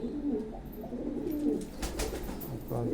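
Pigeons coo softly and repeatedly at close range, low rounded calls in a loose rhythm with faint background shuffling and no clear speech.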